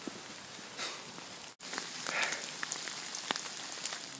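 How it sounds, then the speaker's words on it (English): Heavy rain pours steadily along a coastal Camino pilgrim route, a dense, even hiss of drops hitting the ground and surfaces, with one brief dropout midway. "There's a momentary break in the heaviest of the rain."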